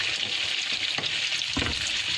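Browned onion going into frying chicken tikka gravy in a pan, a steady loud sizzle with a few soft stirring scrapes, close and with no talking.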